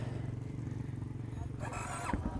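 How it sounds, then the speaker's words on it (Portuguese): A Lander cross motorcycle engine runs with a steady low throb throughout, close and fairly loud, while a voice speaks briefly over it near the end. "Vamos pegar a moto dele aqui, que é uma Lander."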